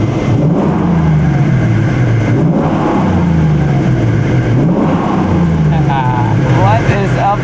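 A Ford Mustang Mach 1 engine revs repeatedly in a crowded store setting, with a loud, rising and falling low rumble over constant background chatter, and a few brief higher squeaks near the end.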